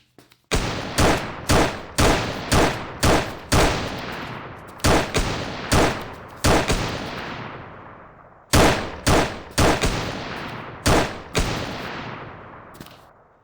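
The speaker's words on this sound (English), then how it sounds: "So now the enemy should stay at the same place and shoot from there." Enemy gunfire in a third-person video game shooter test, bursts of sharp, loud shots in two volleys, each crack decaying into a reverberant tail, heard alone without talk.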